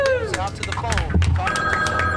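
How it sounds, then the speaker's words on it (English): A telephone rings in a busy indoor scene, its tone sounding through overlapping speech and background chatter for a couple of seconds. "Hey, it's ringing."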